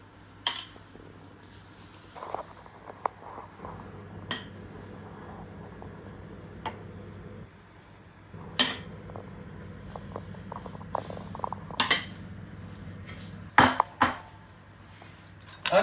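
Amul whipping cream stirred into a dish by hand, with repeated close clinks and scrapes of a utensil against the bowl over a steady low kitchen hum, in irregular bursts.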